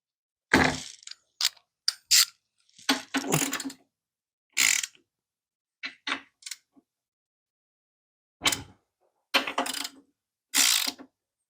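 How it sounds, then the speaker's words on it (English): Ratchet wrench tightening bolts on a bicycle during assembly, heard as separate bursts of rapid clicking with pauses between, close and clear, with no talking. "Ratchet."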